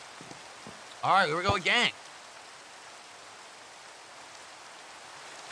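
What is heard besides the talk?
rain in the video game Minecraft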